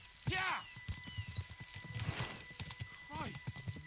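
Horses gallop with clip-clopping hooves in Kingdom Come Deliverance II, the steady thudding beat running under a voice, with a horse whinnying at the start and again near the end.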